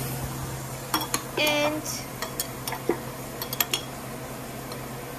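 Metal utensils clink and scrape against a pan as garlic and ginger go in while cooking aloo gobi, a handful of sharp scattered clinks over a low steady hum, with a voice speaking briefly.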